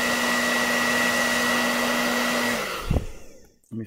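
An off-the-shelf hairdryer blows hot air steadily at close range with a constant whir and tonal hum, then switches off and winds down near the end.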